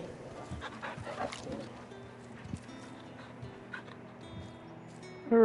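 A dog in Final Fantasy 16 gives a few scattered barks and yips over quiet ambient game sound, short sharp calls spaced irregularly at moderate distance.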